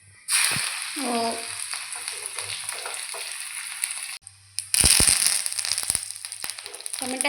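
Spices for tomato rasam temper in hot oil, a loud, steady sizzle full of crackling pops that cuts out briefly, then flares up again even stronger, with a voice heard faintly in places.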